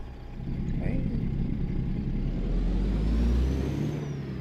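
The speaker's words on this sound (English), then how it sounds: "because the truck sounds a little loud to me" A truck in American Truck Simulator with a Krone trailer, a low, steady engine drone that swells slightly as it drives, with faint hissing on top and no talk.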